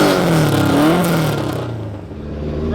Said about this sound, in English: out in the Mk2 Escort with a Cosy on carbs